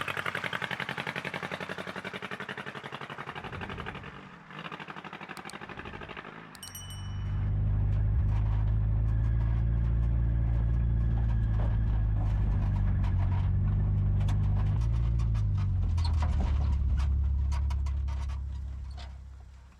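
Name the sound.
restored abandoned car being driven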